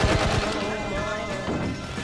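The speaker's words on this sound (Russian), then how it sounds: "Стрельба из пулемета?" Rapid automatic machine gun fire in Medal of Honor (2010), with game sound effects, rattles continuously, dense and loud, with rumbling impacts underneath.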